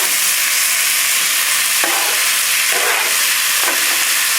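Vegetables stir-fried over a high flame with chicken and garlic, a loud, steady hissing sizzle broken by a few sharp tossing scrapes, no speech.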